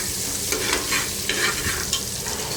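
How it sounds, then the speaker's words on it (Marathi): Crushed ginger and garlic sauté in hot oil for a veg pulao, a steady close sizzle broken by several scraping stirs of a spoon against the pan, with no voices. "आता याच्यामध्ये आलं लसूण आपण ठेचून घातलेलं आहे ते घालायचं आहे। ते परतून घ्यायचं व्यवस्थित तेलामध्ये।"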